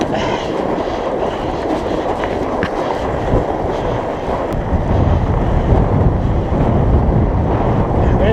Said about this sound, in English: There's a pretty strong wind.